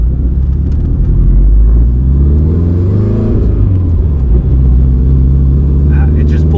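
Supercharged Subaru Outback with forged engine internals driven gently during break-in, a loud steady engine rumble and drone with a slight rise in pitch, continuous throughout.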